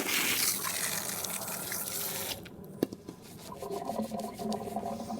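Water runs from a salon shampoo sprayer onto hair, a dense gushing hiss that cuts off abruptly, followed by softer splashing and dripping at close range.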